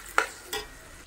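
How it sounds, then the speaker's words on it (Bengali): Potatoes with spices are stir-fried in oil in a pan. Two quick spatula scrapes sound close and fairly loud over a faint sizzle, with no speech. "তো এবার আলুগুলো দিয়ে দিয়েছি, আলুগুলো একটু কষিয়ে নেবো"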